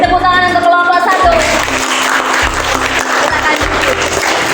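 A classroom audience applauds group 1 after a lesson on making stir-fried intestines (tumis usus), a loud sustained burst of clapping with a voice and some tonal sounds over it.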